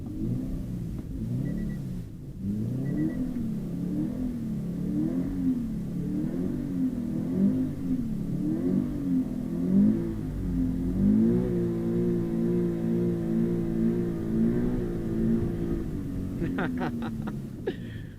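A 2020 Subaru BRZ engine drones and revs in waves while the car drifts on a slick road in hurricane weather, a steady close rumble rising and falling in pitch, with talk over parts of it.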